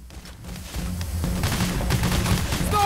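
Sniper gunfire in the bank-robbery game Payday builds into a loud, dense barrage of shots and booms over low rumbling game noise, growing heavier toward the end.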